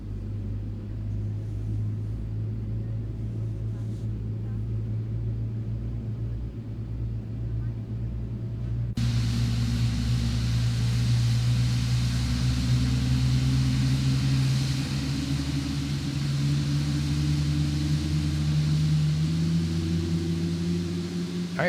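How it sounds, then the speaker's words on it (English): Engine of a Boeing 777-300ER in the X-Plane 12 simulator spooling up: a low steady rumble that jumps to a louder broadband roar partway through, with a rising whine climbing steadily over the following seconds. "And we'll start to hear that engine spool up."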